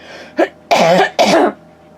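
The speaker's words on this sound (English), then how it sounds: "needed to cough" A short throat-clearing sound is followed by two loud, close coughs, then quiet.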